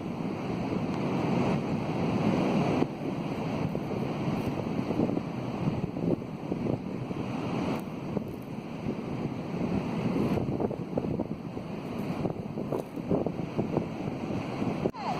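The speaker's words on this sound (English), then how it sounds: "I do apologise about the wind." Strong wind buffets the microphone on the coast at Skegness, a loud continuous rumbling roar with gusty surges, and surf-like noise mixing in throughout.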